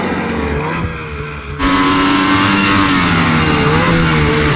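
Snowmobile engine throttling up for a jump, a steady near idle that abruptly surges into a loud, sustained high-revving roar with smooth, slightly wavering pitch.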